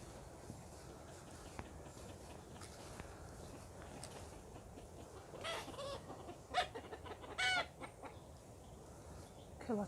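Chickens clucking outdoors at a wild campsite, faint and distant at first, with a few louder, sharper calls bunching together toward the end over quiet background hiss.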